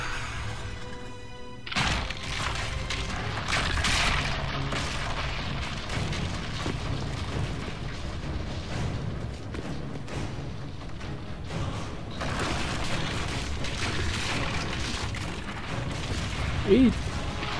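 A creature's stomach bursts in the video game Dragon Age: Inquisition: a sudden loud blast that carries on as a dense, rumbling roar of game noise, with voices underneath.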